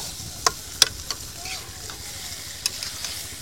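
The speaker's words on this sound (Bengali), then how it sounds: "মাছ কষানো চলছে।" Large hilsa fish sautéing in a pan, a soft continuous sizzle with a few sharp spatters and stirring scrapes, close and moderately loud, with no talk over it.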